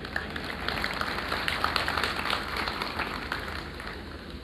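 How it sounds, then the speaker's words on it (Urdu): An audience gives faint, steady applause at a humorous Urdu poetry recital. The soft patter of many hands clapping continues evenly at a distance, with no voices over it. "یہ تالیاں بجانا کوئی غیر شرعی حرکت نہیں ہے ویسے۔"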